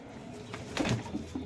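A male racer pigeon gives a soft, low coo close by, a brief throaty murmur rising once or twice against a faint hum of room noise.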